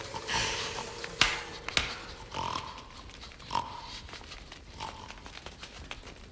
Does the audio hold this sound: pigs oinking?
yes